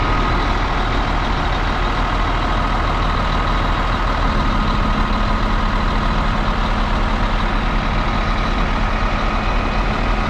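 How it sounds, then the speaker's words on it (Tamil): A Scania bus engine idles nearby, a steady low rumble with a continuous broadband hum that holds constant throughout, no voices over it. "ஒரு ஸ்கேனியாவோட ஐடியல் சவுண்டு. ஸோ இந்த சவுண்டு இப்படி தான் இருக்கும்."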